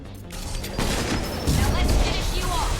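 Gunfire in Mass Effect 2 combat: a dense, continuous fusillade of shots and booming impacts, loud and close, with a brief quieter moment at the start.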